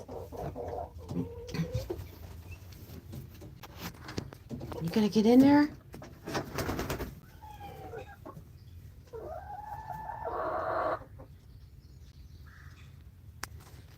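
Hens cluck and squawk inside a chicken house amid some nesting commotion, with a louder flurry of agitated calls midway and more clucking near the end, while a person talks to the birds.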